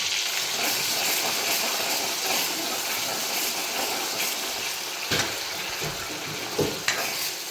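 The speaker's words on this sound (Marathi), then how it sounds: "आता मी यामध्ये अद्रक लसूण पेस्ट टाकली आहे। मस्त रोस्ट म्हणजे ऑइल फ्राय करून घेऊ" Ginger garlic paste frying in hot oil gives a steady, close sizzling hiss, broken near the end by a few sharper clicks and scrapes of a spoon stirring the pan.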